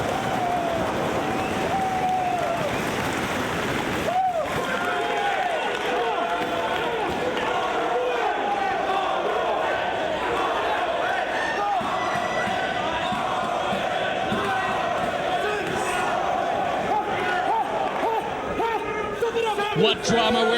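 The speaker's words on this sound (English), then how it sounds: "the crowd is going bananas" A wrestling crowd in a Boston arena goes wild during a brutal match, a continuous loud roar of cheering under energetic commentary, with occasional thuds and sharp impacts from the ring.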